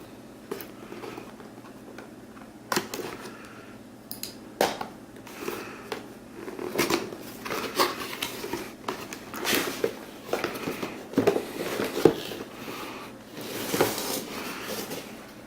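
A blade cuts into the packaging of a Samsung Gear VR headset box, giving close, irregular crackles, snaps and plastic rustles that grow busier toward the end.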